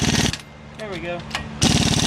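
An impact wrench rattles during a lift kit install on a 2007–2013 Chevrolet Silverado or GMC Sierra truck, loud bursts at the start and end of the clip with a voice in between.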